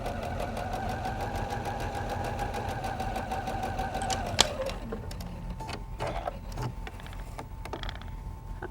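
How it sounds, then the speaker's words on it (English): A sewing machine stitches a quilt seam over pins in a steady fast whir of needle strokes for about four seconds, then a sharp click as it slows and stops, leaving a few soft handling noises. "it is a good idea to slow down when you sew over the pins"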